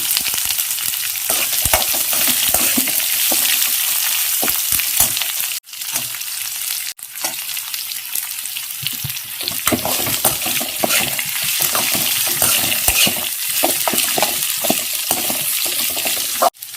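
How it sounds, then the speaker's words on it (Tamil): Sliced onions sizzle in hot oil in a pan for potato masala, a steady loud frying hiss with stirring clatter throughout, briefly cut twice before the sizzle resumes. "இப்போ பாருங்கள் நான் வெங்காயம் போடுறேன்"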